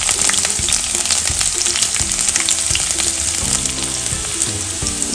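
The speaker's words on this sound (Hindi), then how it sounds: "जीरा तड़क गया है, अब हम लहसुन इसी में डाल देते हैं।" Garlic sizzling loudly in hot oil with crackling cumin seeds, a dense continuous fry heard up close with faint stirring and no voices.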